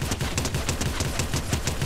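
Gunfire while shooting enemies in the video game Fortnite, rapid repeated shots in a steady stream with no voices over them.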